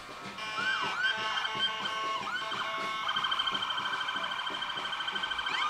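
A Brewster Ambulance siren sounding at the Quincy Flag Day parade, rising and falling wails that shift into a rapid warbling yelp, moderately distant and ringing out over a faint outdoor crowd background.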